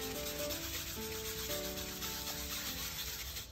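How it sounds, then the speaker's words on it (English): Continuous close rubbing on the back of a painting canvas to lift off staining, a dense steady scratchy friction sound with a faint tonal whine beneath, without pauses or talking. "you're just going to lightly rub off the staining on the back of the paint."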